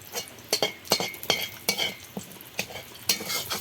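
Dried red chillies hit hot oil in a pan with a soft sizzle, punctuated by about eight sharp metallic scrapes and taps of a spoon stirring against the pan, close-up with no voices.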